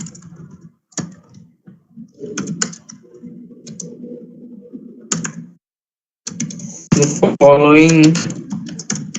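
Keystrokes on a computer keyboard while code is typed, scattered clicks under quiet talk, ending in a louder burst of speech.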